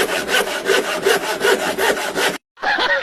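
A very sharp hand saw cutting through wood in fast, steady back-and-forth strokes, loud and close, with one brief pause before the sawing resumes.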